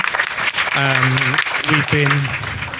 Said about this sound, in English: We shouldn't really get applause for that.